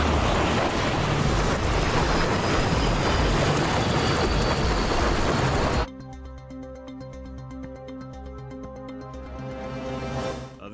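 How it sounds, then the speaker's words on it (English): Moving train in the video game Splinter Cell Pandora Tomorrow, a loud steady rumbling roar for about six seconds that then cuts to a quieter scene with a harmonic drone and rising noise near the end. "We're getting off the train now."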